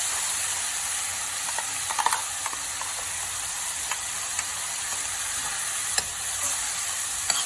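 Onion, ginger and garlic paste frying in a pan for paneer peas curry, a steady close sizzle with scattered clicks and scrapes of stirring.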